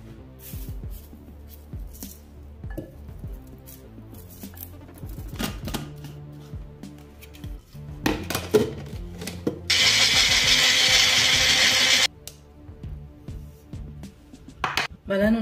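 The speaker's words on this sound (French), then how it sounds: "j'ai fait sortir mon mixeur là." An electric blender mixes fresh mint leaves for homemade flavored sugar. Close clattering and handling noises lead into a loud, steady burst of blending lasting a few seconds, followed by more knocks.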